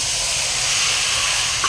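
Chicken dropped into a hot spiced tempering of oil and garam masala, giving a loud, steady, close hiss of sizzling with no pause and no talking.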